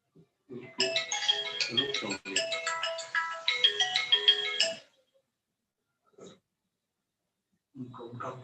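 Phone ringtone going off during an online university seminar, a loud melodic electronic ring repeating for several seconds before stopping, followed by brief faint noises.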